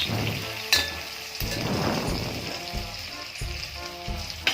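Eggplant pieces fry in oil with a continuous bubbling sizzle. Occasional sharp clinks and scrapes of a utensil against the pan come through close and clear.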